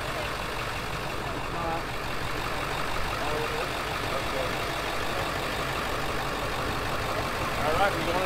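A rear-wheel-drive truck's engine runs steadily in gear during a vehicle rescue, a constant mid-to-low rumble that holds at one level throughout with faint background activity.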